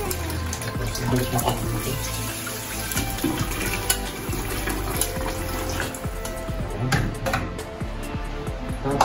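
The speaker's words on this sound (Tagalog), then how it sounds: "Okay, hugasan natin running water." Oysters washed under a running tap, water splashing steadily with rattling shells and clatter up close while a person talks over it.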